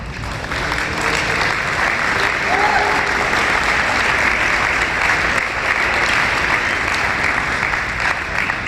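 A crowd claps loudly and steadily for football signees at a high school signing day ceremony, sustained applause with no break.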